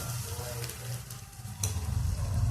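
Goat blood (rakti) frying in hot oil with turmeric and chili, a dense close sizzle that swells louder halfway through as it is stirred.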